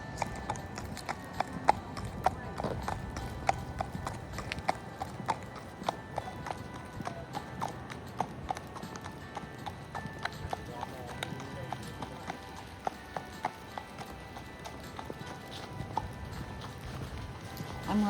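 Hooves of Cooper, a 12-year-old 15-hand Tennessee Walking Horse gelding, clip-clop in a steady, quick rhythm on a city park trail, faint and continuous for many seconds.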